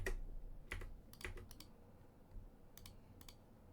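A password typed on a computer keyboard during server setup, with quiet, close, irregular key clicks arriving in short bursts over a low background hum.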